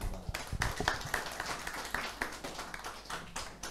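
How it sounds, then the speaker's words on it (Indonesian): Scattered hand clapping from a small group at a farming training session, a handful of uneven claps spread over a few seconds, fairly quiet and close, with no talking over it. "Tepuk tangan Pak."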